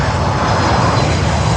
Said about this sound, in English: We have Swiss coming in with a 330-300 from Zurich, Switzerland.